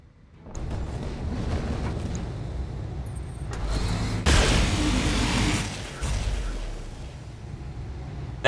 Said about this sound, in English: That is the sound of laser vomit